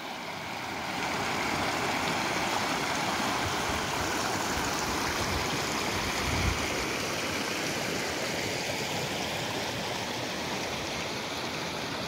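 Water of the Salgado river in the Brazilian northeastern sertão rushes steadily, a continuous broadband flow that holds its level for the whole stretch with no voices over it.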